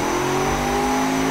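A 2250 bhp car engine with a secondary turbocharger holds a loud, steady, high rev, a close droning roar with a faint turbo whine on top.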